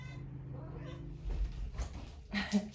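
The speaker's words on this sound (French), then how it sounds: "J'ai mon petit chat qui veut rentrer." A pet cat meows to be let in from the cold, a drawn-out close-up cry at first followed by shorter calls, with a voice speaking over the later part.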